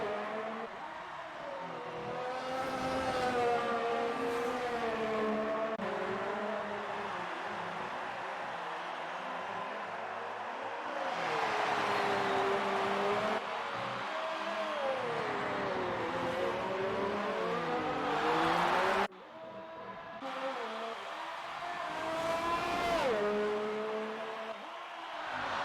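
Race cars in a sim racing video game at the Singapore GP, their engines whining and revving continuously with rising and falling pitch as several cars run close together, loud and steady for the whole stretch.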